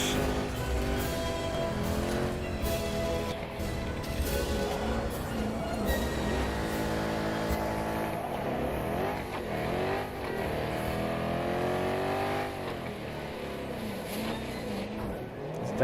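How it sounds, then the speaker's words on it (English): A vehicle drifts in Battlefield 2042, its revving engine and tire noise rolling steadily under dense game sound and music, while excited voices talk over it throughout. "Oh! It's drifting! It's drifting!"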